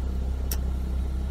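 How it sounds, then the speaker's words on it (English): A Ford Fiesta ST150 engine idles while warming up after a coolant bottle replacement, giving a steady low rumble close by, with one brief sharp click partway through. "I'm going to let it idle for a while, you know, just so it heats up a little bit."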